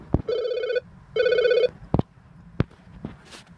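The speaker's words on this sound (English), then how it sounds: "Somebody calling through, and I've declined to answer it just at this moment." An incoming call rings on a telephone: two clear electronic ring bursts, close and loud, followed by a few short clicks and taps.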